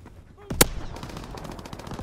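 Gunfire in the Call of Duty: WWII video game, a loud sharp shot followed by a rapid burst of automatic fire amid battle noise.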